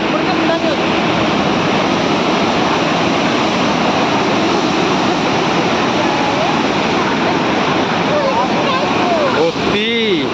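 Floodwater roars through opened dam gates near a forest, a dense, loud, unbroken rushing that fills everything, with brief voices faintly audible over it near the end.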